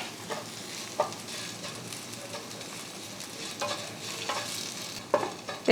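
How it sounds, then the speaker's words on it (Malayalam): Chili powder and a pinch of asafoetida are stirred in a hot pan with the flame off for a pumpkin chutney, giving a soft, steady sizzle with occasional scraping spoon strokes, close and alone. "ഫ്ലെയിം ഓഫ് ചെയ്തിട്ട് ഒന്ന് ഇളക്കി കൊടുക്കാം"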